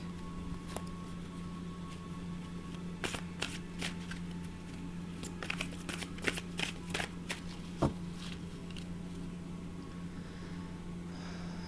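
Tarot cards are shuffled by hand, with quiet, brief papery riffles and flutters arriving in irregular bursts over a low, steady background hum.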